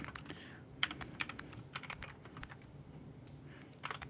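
Close computer keyboard typing during a CozyTyper session, with the microphone sitting in front of the keys: sharp clicks land in uneven clusters of quick strokes, short pauses between them, over low background hiss.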